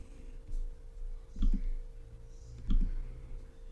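Computer mouse clicks sound close and crisp, in a few small clusters of two quick clicks spaced about a second apart over a low steady room hum.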